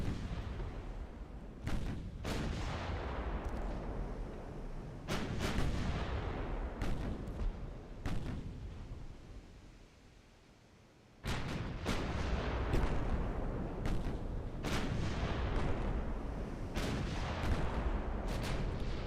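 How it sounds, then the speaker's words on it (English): Battleship main guns fire shells in the naval warfare game Ultimate Admiral Dreadnoughts, with loud, heavy booms and rumbling salvos that roll in repeated bursts, a brief lull near the middle, then more sustained firing. "All it takes is one good shell to land on target from our battleships"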